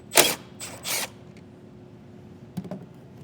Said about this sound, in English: Just take a 10mm socket, and on this I want to try to keep this wire against the metal, so I'm going to hold down on it while I remove the nut.